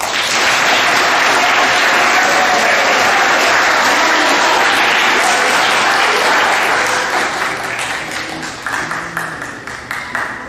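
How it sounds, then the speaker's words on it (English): Audience applause at a middle school awards assembly honoring teachers: dense, loud, sustained clapping filling the room for about seven seconds, then thinning and tapering off with scattered claps. "Give your teachers a big round of applause."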